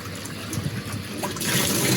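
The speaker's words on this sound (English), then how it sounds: "You really need to wash that stuff out and just keep going until the water runs clear." Running water rinses a cyanotype print, a steady close trickle and splash that grows fuller and brighter toward the end, with no voices.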